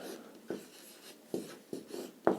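A pen writes out a question by hand, probably on a board or page, with scratchy strokes and a few sharper taps, close and quiet with no talking.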